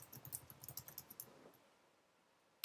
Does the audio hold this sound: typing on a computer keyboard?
yes